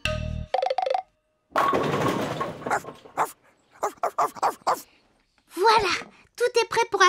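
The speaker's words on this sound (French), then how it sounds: "Mon petit Zim, il ne faudra pas aboyer aussi fort quand Tourneboule sera là." Cartoon dog Zim lets out a series of short, loud barks and yips in quick bursts, mixed with lively cartoon speech and sound effects.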